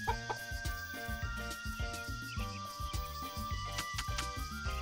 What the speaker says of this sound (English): Should probably let the chickens out as well.